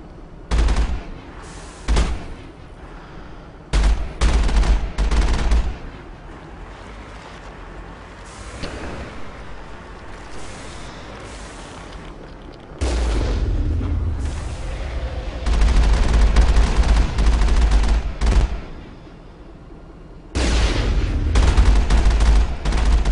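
Gunfire in a Mass Effect battle against synthetics: loud bursts of automatic weapon fire come in long sustained stretches with short pauses, heavy and close, with no voices.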